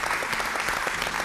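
Steady applause from a studio audience for a band during a television appearance, dense, continuous clapping filling the short moment without a break.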